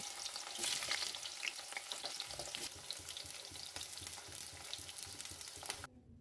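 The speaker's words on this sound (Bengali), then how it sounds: "ওই তেলেই আমরা কেটে রাখা আলু ভেজে নেব" Cut potatoes fry in hot oil in a kadai, a continuous crackling sizzle with occasional stirring scrapes, fairly quiet and steady until it cuts off abruptly near the end.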